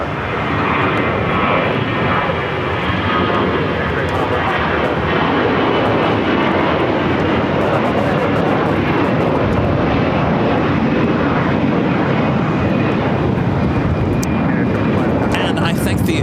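A fixed-wing airliner takes off from runway 25 left at LAX, its engines a loud, steady roar that holds for the whole stretch, with a person talking over it.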